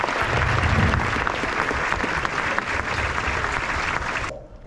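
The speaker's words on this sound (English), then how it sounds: "A round of applause." Audience applause at a US Army Rangers skills demonstration, a dense, steady clapping crowd that holds loud for about four seconds before cutting off sharply near the end.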